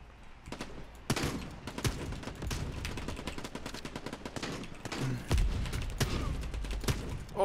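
Repeated gunfire in the arena shooter Quantum League during a ranked match, with sharp shots and bursts scattered steadily throughout, some heavier thumps among them, moderately loud over game sounds.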